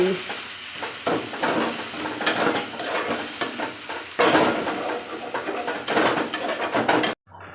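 Mixed vegetables with turmeric fry in a pan, giving a steady loud sizzle with repeated scraping strokes of stirring before it cuts off abruptly near the end.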